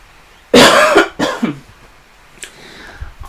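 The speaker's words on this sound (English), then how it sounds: "I knew I was going to start coughing when I started talking." A person coughs twice in quick succession, loud and close, followed by quieter faint noises and rustling as the room settles into near silence.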